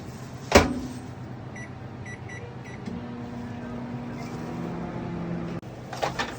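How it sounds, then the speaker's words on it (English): A microwave oven hums steadily while heating pretzels in a bowl at a concession stand, with a few beeps near the start and a sharp click, the low drone continuing until it stops and the door opens. "We're going to microwave them for 1 minute inside of"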